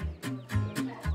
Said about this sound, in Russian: тут прямо есть эти цыплята, которые вылупливаются из яиц, которые тут прям высиживают куры